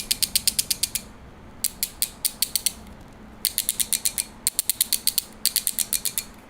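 A fidget toy packed with little balls and springs clicks in rapid ratcheting bursts, several quick trains of crisp, close clicks separated by short pauses.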